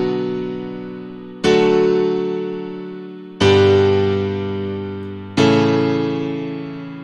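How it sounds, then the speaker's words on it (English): A free grand piano preset from FL Studio's Flex Essential pianos plays four sustained notes or chords, each struck cleanly and left to ring and slowly fade before the next, close and alone. "And I have loaded up this grand piano,"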